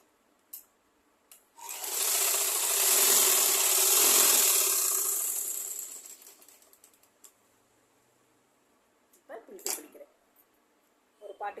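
Sewing machine stitching a plain petticoat, one steady run of about four seconds that builds and fades, with short clicks and brief handling noises later in the clip.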